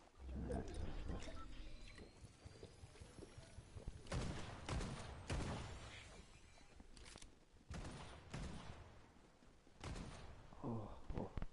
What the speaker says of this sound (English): Why am I shooting?